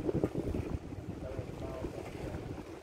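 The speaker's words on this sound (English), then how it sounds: "It's very calm, a little bit windy." Wind noise buffets the microphone aboard a sailing yacht heading out slowly across a calm bay from a marina, a steady low rumble with faint water and hull sounds and no clear voices.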